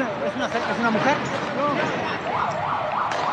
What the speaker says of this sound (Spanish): Ahí se acerca la ambulancia